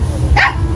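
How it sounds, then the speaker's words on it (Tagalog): A single short dog bark sounds once over a low rumbling background. "ay yung mga aso"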